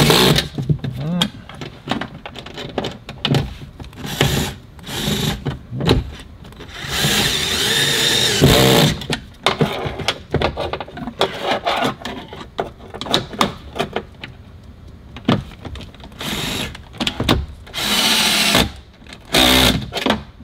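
A drill driving screws with its clutch switched off while a speaker is fitted into a 2019-2025 Volkswagen Jetta, in short, loud, repeated bursts separated by pauses and handling noises, with some talking between them.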